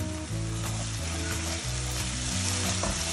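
Lemongrass sizzles steadily in hot oil along with sautéed aromatics for a spiced chicken dish, a loud, dense, continuous frying hiss close up with faint stirring.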